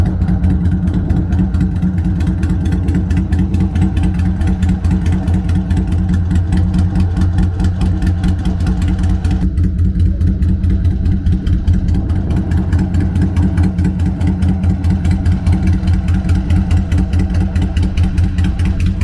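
A motorcycle engine idles steadily out in open country, a dense low rumble with rapid even pulses that holds at constant loudness for the whole stretch, close by, with no one speaking.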